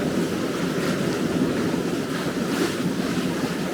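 Waves and steady wind roar around a sailboat at sea, a continuous broadband wash of surf and buffeting wind noise on the microphone, close and loud with no speech.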